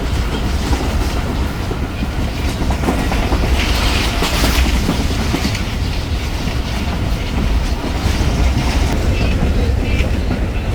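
Subak Raftar railcar train running at about 100-105 km/h on a morning run toward Gujranwala, with a loud steady roar of wheels on rail and rhythmic clickety-clack filling the whole stretch.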